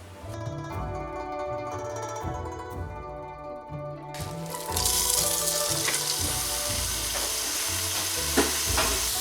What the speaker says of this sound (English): I'm going to heat up my skillet, and I'm going to put about a tablespoon of coconut oil in there just so my turkey doesn't stick